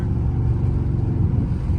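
A low, steady engine rumble from a Dodge Charger Scat Pack on a late-night drive, close and loud, droning without change.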